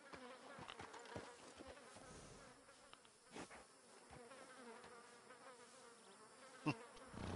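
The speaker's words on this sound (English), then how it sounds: "See all the flies buzzing around me?" Flies in Red Dead Redemption 2 swarm close around a player character carrying pelts. Their steady buzzing and droning rises and falls, with occasional faint clicks from the game underneath.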